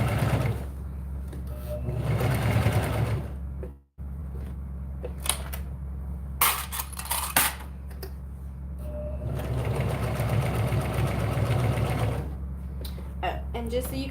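Sewing machine stitching through cork fabric, a steady mechanical whir running close and loud nearly throughout, with a short pause near four seconds and some talking over it.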